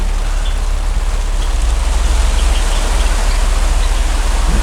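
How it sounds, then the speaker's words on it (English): Steady rain pours down on an aviary, a dense even hiss of drops hitting surfaces nearby, continuous for the whole stretch with no voices. "here comes the rain"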